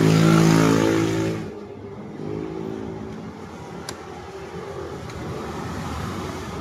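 A motorcycle engine runs after a new middle bearing has been fitted, revving loudly at first with strong harmonic tones, then settling into a steadier, quieter idle with a rough low rumble.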